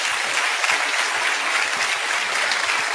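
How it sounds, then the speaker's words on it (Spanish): Dense, steady applause from a large audience fills the whole stretch, loud and close, with no pause. "No tengo más que darle un aplauso a Domingo Faustino Sarmiento porque se lo merece"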